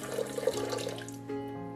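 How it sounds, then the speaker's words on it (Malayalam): Water poured into a pot of erissery curry for a gravy, a brief splashing, gurgling pour that fills the pot, close and fairly quiet, with no talking. "അപ്പം കുറച്ച് അധികം വെള്ളം ഒഴിക്കുന്നുണ്ട്."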